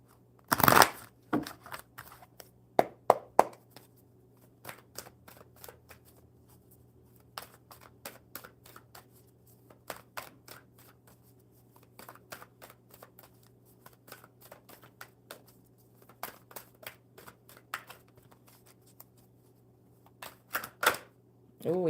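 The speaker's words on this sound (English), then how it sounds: "One more good shuffle." A deck of playing cards is shuffled during a relaxed live coffee-and-cards chat, giving a few loud riffling bursts at the start and end, with soft scattered card clicks and handling noises in between over a steady low hum.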